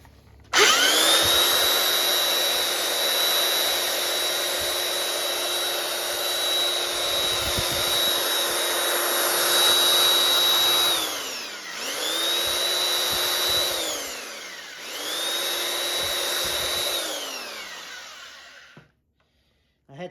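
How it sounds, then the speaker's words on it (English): A belt sander runs in a steady, loud whine as it sands down heavier spots on a metal station buck in a fabrication shop, winding down and restarting twice before stopping near the end. "so I broke out the belt sander"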